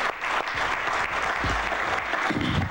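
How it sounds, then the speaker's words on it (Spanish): Sustained applause from a crowd at an extraordinary meeting of UNASUR presidents in Cochabamba, Bolivia, honouring the president of Suriname; dense, steady clapping fills the room throughout with no voices on top. "Aplauso para nuestro hermano presidente de Surinam."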